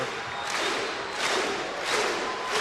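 A sellout volleyball crowd at a Hawaii match roaring and cheering for a set point, a loud, sustained wall of voices that surges in waves, rising and falling several times, with no distinct speech.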